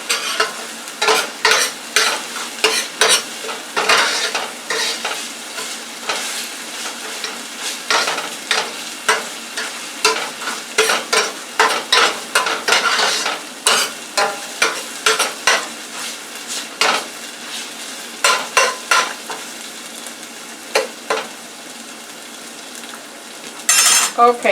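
Green pepper frying in oil in a pan, stirred with a utensil that clatters and scrapes in steady repeated strokes over a soft, continuous sizzle, close and fairly loud with no talk.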